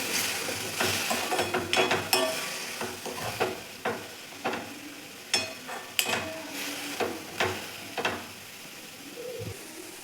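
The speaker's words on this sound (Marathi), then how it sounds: "व्यवस्थित मिक्स करून घेऊ आपण मेथी" Fenugreek leaves and semolina are mixed in a pan with quick, repeated scraping strokes of a spoon, crisp and close, over a light dry sizzle.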